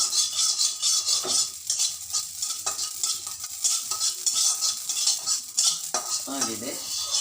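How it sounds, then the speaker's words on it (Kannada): Poppy seeds dry-roast in a pan on low heat for vangibath powder, with a faint crackle under repeated close scraping and stirring strokes of a spoon against the metal. "ಸಿಮ್ ಮಾಡ್ಕೊಂಡ್ಬಿಟ್ಟು ಗಸಗಸೆ ಹುರಿಬೇಕು."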